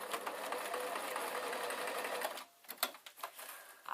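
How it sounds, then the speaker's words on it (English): A sewing machine runs a simple line of stitches through a plastic pencil case with a steady, fast mechanical whirring for about two seconds. It then stops, leaving a few faint handling clicks and taps. "it will sew through plastic, but it won't sew through metal."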